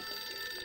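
A telephone rings in a short, steady burst in a French-language children's cartoon, a continuous bright electronic tone heard alone at moderate level.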